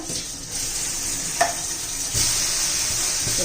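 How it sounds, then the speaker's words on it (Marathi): Water flicked onto a hot iron tawa readied for rice-flour and besan dosa gives a steady, hissing sizzle with a few small sharp crackles, heard close and with no talking. "आपण तव्याला पाणी शिंपडून घेऊया"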